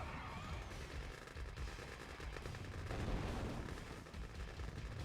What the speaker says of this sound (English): the snipers are clearing out the Desolators